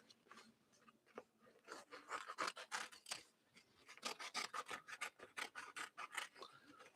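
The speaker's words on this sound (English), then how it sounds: "I'm going to take some scissors and we're just going to cut a circle." Scissors cut a circle out of a paper coffee filter in a quiet room, giving soft, rapid rasping snips in short irregular bursts that grow quicker and more rhythmic toward the end.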